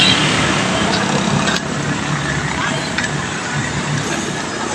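Heavy road traffic with large trucks rumbles past as a dense, continuous roar of engines and tyres, nearby and loud, with a couple of short clanks.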